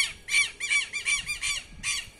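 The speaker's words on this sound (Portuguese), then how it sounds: "Olha os pássaros." Several birds squawk outside in shrill, raspy bursts, about six calls in quick succession over a couple of seconds, fairly close and clear with no talking.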